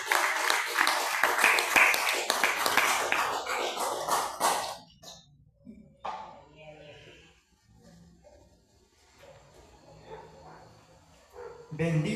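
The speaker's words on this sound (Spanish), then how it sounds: "Si puede, regálele fuertes palmas al que vive y permanece para siempre." Church congregation applauding together, a dense burst of loud, sustained clapping that fades after about five seconds into quieter room sounds with scattered voices.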